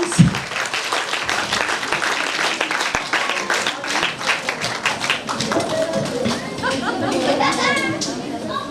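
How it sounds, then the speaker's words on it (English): Sustained applause from an audience at an International Women's Day event, steady and fairly loud for the whole stretch, with scattered claps, crowd murmur and children's voices mixed in. "Loads of applause. I think all can put together your hands."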